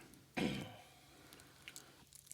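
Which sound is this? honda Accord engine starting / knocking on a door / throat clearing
throat clearing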